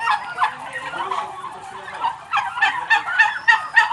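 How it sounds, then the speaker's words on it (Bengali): About a hundred domestic turkeys gobble and call together nearby in an indoor shed, overlapping bursts of warbling cries in an irregular, busy chorus. "এখানে প্রায় একশো টার্কি পালন করা হচ্ছে"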